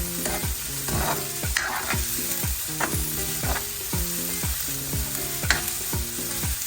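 Green chillies, garlic and curry leaves fry in a pan while a utensil stirs and scrapes them in a steady rhythm, sharp clacks repeating about twice a second over continuous close sizzling, with no voices.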